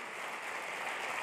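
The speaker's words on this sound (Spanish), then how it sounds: "Vamos a darle otro aplauso al Señor." A church congregation gives a round of applause, a dense, even wash of many hands clapping that is steady and fairly soft throughout, with no voices standing out.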